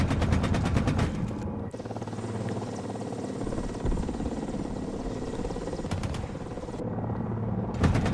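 Rapid automatic gunfire from a Ka-52 attack helicopter in the War Thunder video game, loud and close in sustained bursts over a steady rotor and engine drone, with sharper shots near the start and end.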